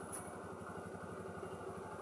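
A carburetor Yamaha Xeon motorcycle with double starter runs steadily at idle after service, a close, even mechanical putter with a faint high whine on top and no talking.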